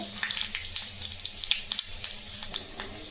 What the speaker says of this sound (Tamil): இப்போ நம்ம இது ஒரு தாளிப்பு போட்டுடலாம் கொஞ்சமாக போட்டுக்கலாங்க அது கூடவே சீரகம் கொஞ்சம் போட்டுக்கலாங்க